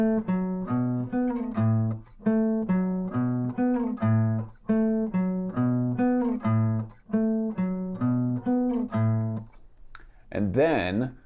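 Guitar riff that starts on A, the seventh, repeating a rhythmic pattern of clean plucked notes and short chords in even phrases, loud and close, with no talking and a brief louder strum near the end.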